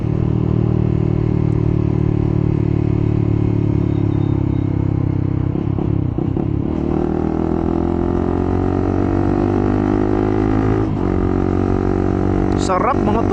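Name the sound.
Honda CBR150R motorcycle engine revving and shifting gears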